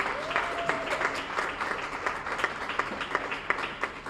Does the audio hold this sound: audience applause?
yes